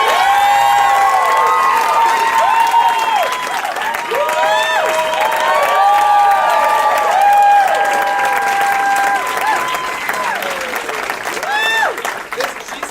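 Loud crowd applause and cheering at an improv club show, dense clapping under whoops and high excited shouts that rise and fall across the whole stretch.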